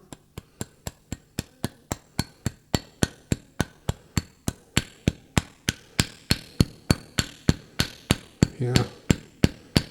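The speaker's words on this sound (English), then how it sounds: "Let's see if I hammer it with a plastic hammer." A plastic hammer strikes a tight-fitting part on a Weiler Matador metal lathe in a steady series of about thirty sharp, evenly spaced knocks, close and clear, with a brief spoken word near the end.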